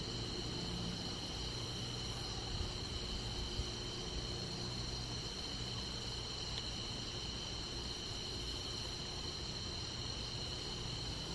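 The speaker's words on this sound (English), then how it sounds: "Can you hear the crickets?" Crickets chirp at night in a steady, continuous high trill during a pink lightning storm, faint and even under a broad background hiss, with no talk.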